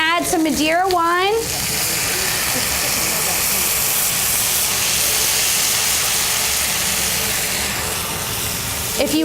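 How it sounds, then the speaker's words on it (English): Madeira wine hits a hot pan and sizzles with a loud, steady hiss of steam that lasts several seconds, starting just after a brief voice. "So to this pan, I'm going to add some Madeira wine."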